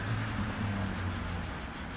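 A soft natural-fibre cloth wipes cleaner off a game cartridge, giving continuous close rubbing strokes with no voice over them.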